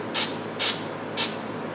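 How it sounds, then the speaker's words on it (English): Waterproofing spray is applied to a servo in three short hissing bursts from an aerosol can, each about a tenth of a second, close and clear against a quiet room. "we're just going to hit that servo with a nice even coating of that waterproofing spray."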